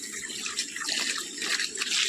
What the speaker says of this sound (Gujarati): આપણે અત્યારે મહેંદીમાં પાણી ચાલુ કરી દીધું છે